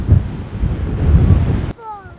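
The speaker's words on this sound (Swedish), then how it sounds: "Vilken jävla våg som träffade." Surf crashing on the Algarve coast with strong wind buffeting the microphone, a loud continuous rush for most of the moment, then cutting abruptly to a quieter scene with a faint tonal whine.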